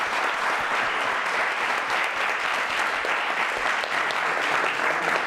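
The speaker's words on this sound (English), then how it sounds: "So with this group again, would you give them a round of applause" An audience applauds graduates and their parents, a loud, dense, sustained round of clapping from a large crowd lasting several seconds without a break.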